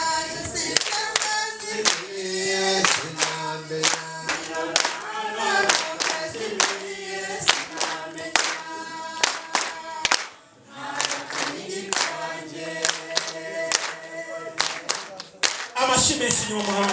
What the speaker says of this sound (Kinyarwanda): bakwikiriza n'amashyi